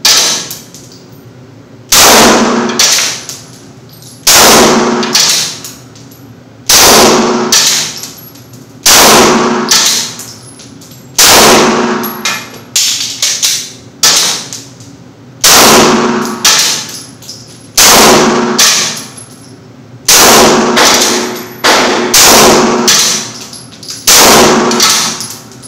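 Gunshots striking a Trijicon RMR RM07 red dot sight in a durability test: loud metallic clangs in evenly spaced bursts, each a tight cluster of hits followed by a ringing pause, with no talking.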